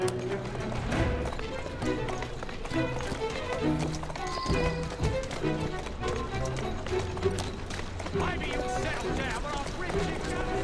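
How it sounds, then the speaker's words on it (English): Steady clip-clopping horse hooves in the video game Assassin's Creed Syndicate beat along in an even rhythm, layered over a busy musical background. "Who's a good horse? You are."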